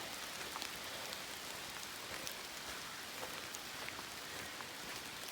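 Steady rain falls on a pine forest hiking trail carpeted with thick pine straw, a dense even hiss with scattered drop patter continuing throughout, no talking.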